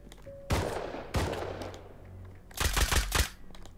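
Enemy gunfire in Rust: two separate loud shots early on, then a quick rapid burst of about five rounds, close and punchy with short echoing tails and no talking.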